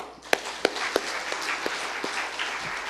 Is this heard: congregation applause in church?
yes